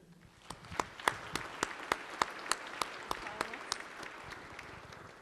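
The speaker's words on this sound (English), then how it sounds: "if you can all join me one more time for a round of applause for Hannah and her family." Applause at the 2014 Prudential Spirit of Community Awards ceremony comes through faintly, with distinct, evenly spaced claps standing out over a soft background of the room.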